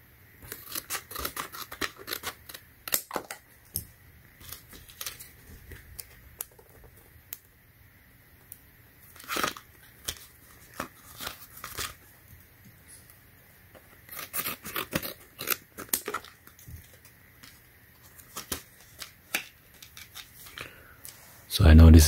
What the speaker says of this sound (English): Alright, so let me cut this